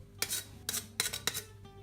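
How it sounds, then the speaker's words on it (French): Zest grated quickly off half a lime: four short, raspy scraping strokes, close and fairly quiet, with brief gaps between them. "On va juste râper vite fait un petit peu de citron vert."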